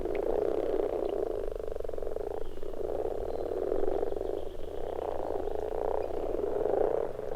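A dense chorus of common frogs croaking together at a spawning gathering, a continuous purring, rattling mass of overlapping calls that swells and dips in steady pulses, close and fairly loud with no voices.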